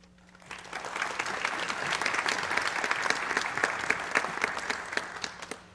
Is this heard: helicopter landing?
no